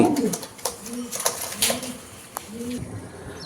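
Pigeons, including a Belgian-bloodline pied racer, give several soft, rounded coos in short repeated phrases close by, with some rustling and faint background voices.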